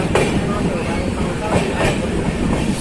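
The Kiul-Malda intercity train runs on rails leaving Narayanpur, a loud, close, continuous rumble with rhythmic clickety-clack of wheels over joints.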